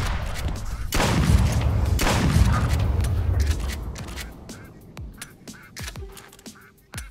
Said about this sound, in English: So now there's like ducks loose on the Enterprise.